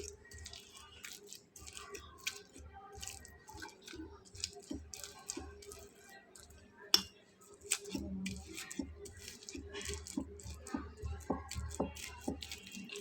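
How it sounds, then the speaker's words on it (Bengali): Cooked pumpkin being mashed with a fork, giving soft, irregular squishing and light scraping clicks against the bowl, close and quiet, with no talk. "কাঁটা চামচ দিয়ে সুন্দর করে সবগুলোকে ম্যাশ করে নিলাম"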